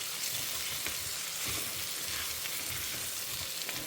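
Vegetables sautéing with salt in a pan for Tamil kara kuzhambu and fried brinjal, a steady close sizzle and crackle that holds evenly for the whole stretch with no talk over it.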